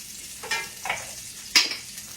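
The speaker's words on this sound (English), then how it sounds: "I hadn't got enough grease in there for the sausage to even fry" Sausage frying in bacon grease in a skillet, a quiet crackle with a few stirring scrapes and short bursts of sizzle, close and fairly soft with no talking.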